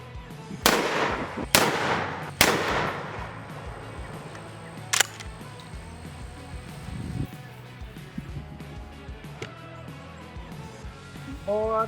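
Shotgun loaded with flechette dart rounds fired at a VP4 concealable vest: three sharp, loud blasts in quick succession, then a fourth a little later, with ringing decay and low room noise between.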